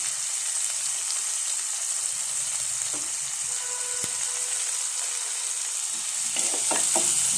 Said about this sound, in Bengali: পেঁয়াজ কুচনো পেঁয়াজগুলো দিচ্ছি।